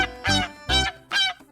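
A large domestic waterfowl, a swan or goose kept as farm poultry, gives three loud, harmonic honking calls in steady succession, each lasting about a quarter second, then a short fourth note at the end.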